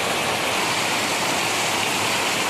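A downpour of heavy Malaysian rain rushes steadily over a waterlogged road, a thick continuous roar of falling water, close and unbroken.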